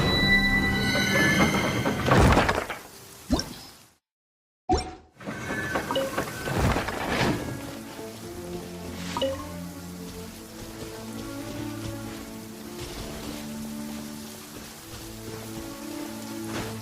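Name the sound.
rain falling in the video game Genshin Impact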